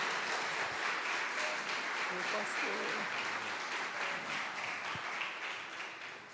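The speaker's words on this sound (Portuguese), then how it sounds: "Vamos aplaudir Jesus, irmãos, receber o pastor Miguel." A church congregation applauds steadily during a service, a broad wash of clapping that fades slightly toward the end, with a voice speaking over it.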